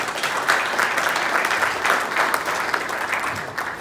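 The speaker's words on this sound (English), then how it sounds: "So just a quick round of applause for them." A conference audience at a PagerDuty event in Sydney gives a short round of applause for the customer speakers, steady clapping from a mid-sized crowd at moderate volume.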